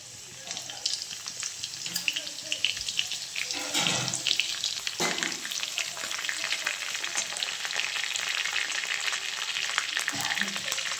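Mustard seeds and crushed garlic frying in hot oil, a dense close sizzle with crackles and popping seeds, plus a few scraping stirs.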